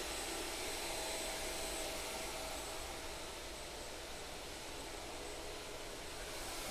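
A Shaper Origin handheld CNC router makes a half-inch-deep finishing pass, giving a steady, loud, broadband whine and roar with no break or change.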